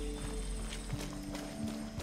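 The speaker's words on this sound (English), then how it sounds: "It's a horse." Horse hooves clip-clop in an uneven walking rhythm, close and fairly soft, over a steady low hum and background game ambience from Far Cry 6.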